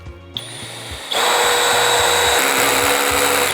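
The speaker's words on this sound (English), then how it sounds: "It's invaluable when you're using this to set screws, maybe in cabinetry or delicate precision work." A cordless hammer drill drives a screw for cabinetry or precision work, starting with a brief low whir and then a loud, steady high-pitched motor whine. A rhythmic low-end chatter from the driving runs underneath, with no talking.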